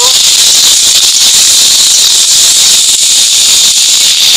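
Chillies, whole garlic cloves and chopped onion hit hot oil in a pan for a Bengali chicken dish, giving a loud, continuous sizzling hiss that holds steady throughout.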